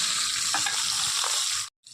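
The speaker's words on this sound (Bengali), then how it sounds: "তো এই যে মাছ ভাজা শুরু করে দিয়েছি" Fish frying in oil in a wok, a loud, steady hiss with faint crackles that cuts out briefly near the end and then resumes.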